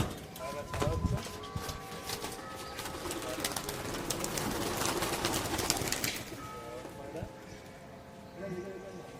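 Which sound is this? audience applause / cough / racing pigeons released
racing pigeons released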